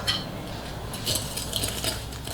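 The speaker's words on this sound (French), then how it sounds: "On mélange pour faire blanchir." Egg yolks and sugar are whisked together in a mixing bowl, giving quick, light metallic clinks and scraping against the bowl, fairly soft and continuous.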